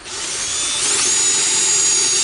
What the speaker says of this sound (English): So we drill 4 holes in our container.